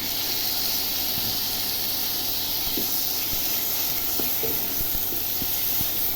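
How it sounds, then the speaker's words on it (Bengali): Chopped tomato goes into a pan of frying onions for a spinach and mushroom curry, giving a steady, soft sizzling hiss with a few faint clicks and stirring sounds, no talk. "পেঁয়াজটা ভাজা হতে হতে এবার আমি একটা টমেটো, বড় টমেটো কুচি করে রেখেছি, এটাও দিয়ে দিলাম।"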